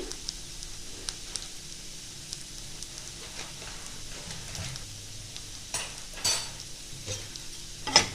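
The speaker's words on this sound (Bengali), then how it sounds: "দিয়ে এটা আর একটু ভেজে নিতে হবে।" Poppy seeds and kasuri methi dry-roast in a pan, heard as a soft, low sizzle broken by scraping stirs and light spoon clinks against the metal, louder near the end.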